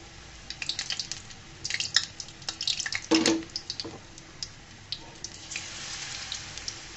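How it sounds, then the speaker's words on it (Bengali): Cauliflower florets dropped one by one into hot oil for crispy pakora, with bursts of sizzling and bubbling crackle, a louder surge midway, then steady frying hiss. "এই পর্যায়ে এক এক করে আমি ফুলকপিগুলো দিয়ে দিচ্ছি।"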